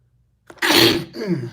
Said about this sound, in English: hold on, I might have to sneeze